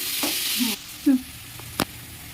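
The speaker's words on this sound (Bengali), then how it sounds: "তো চলো এটা একটু ভাজা ভাজা হোক, তারপরে আসছি।" Spices and onion frying in a pan make a low sizzle broken by a few short stirring knocks and scrapes, close by and without speech.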